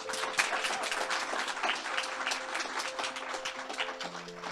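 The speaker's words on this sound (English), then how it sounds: "Let's give them another round of applause." An audience applauds after speakers at a TEDx university event, a steady, dense wash of clapping from a crowd that holds level before easing slightly at the end.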